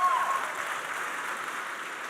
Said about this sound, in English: how about a round of applause, well deserved, for Matthias?